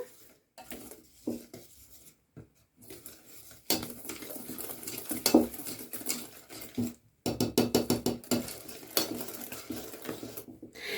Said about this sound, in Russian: Смесь перемешиваю венчиком.